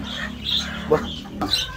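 Power Kelso broodcock, a gamefowl rooster from California, gives a few short clucks and calls close by at a pet market, over low background murmur.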